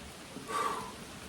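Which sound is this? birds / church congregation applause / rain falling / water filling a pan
rain falling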